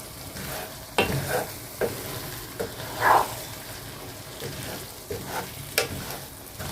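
A spoon stirs thick yam sauce in a pot over heat, giving steady scraping and bubbling with a soft sizzle underneath and a few sharper knocks against the pot, close and alone.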